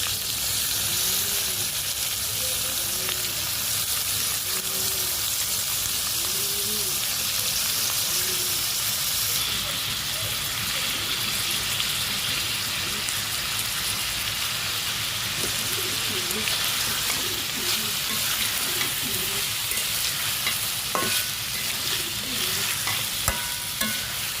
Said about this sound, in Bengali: ভিতরে মাংসের সাথে আলুটি ভালোভাবে ভেজে নেব